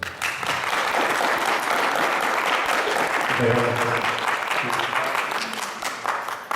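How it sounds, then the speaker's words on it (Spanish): A lecture audience in Spanish applauds to welcome Dr. Fernando García before his talk on population genetics and laser dynamics, steady clapping throughout with a voice briefly heard underneath. "les pido que recibamos al doctor Fernando García con un aplauso"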